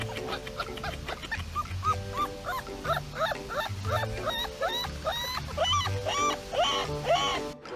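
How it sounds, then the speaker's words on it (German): A dog whimpers and yips in a run of high, whining cries over a steady background hum, close and continuous, with short barks mixed in. "Der Hund."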